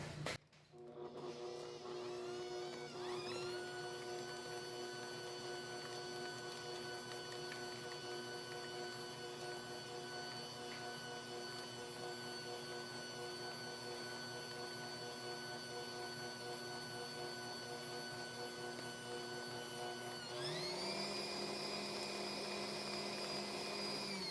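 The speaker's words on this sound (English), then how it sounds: "Now I will turn the volume down on the mixer while I do this just because it's really annoying." An electric mixer beating cake batter ingredients gives a steady, faint motor whine with a strong harmonic hum; it runs without a break and jumps to a higher pitch near the end.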